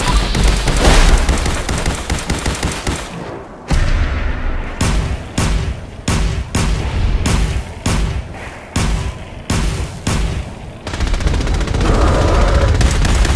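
Loud, rapid bursts of gunfire in Fallout 4, a rhythmic string of sharp close shots with brief pauses, played alone without talk.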